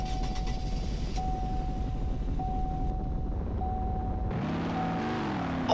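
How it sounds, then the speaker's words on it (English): A big car engine with four exhausts starts up in a video game, a low idle rumble that turns into a deep, rising engine note near the end. "Let's hear the startup on this."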